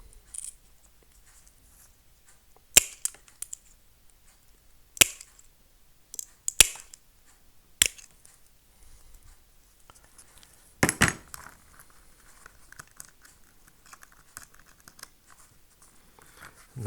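Mosaic tile or glass pieces being cut for a heart necklace make sharp, isolated snaps and clicks, about half a dozen crisp cracks spaced several seconds apart against a quiet background.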